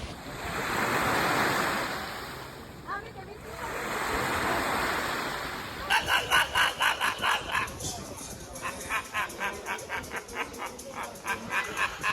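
Waves wash onto a private beach at Ksamil, Albania, in slow swelling surges about every three seconds, later giving way to a rapid series of pulsing sounds, with wind noise and a dog barking faintly.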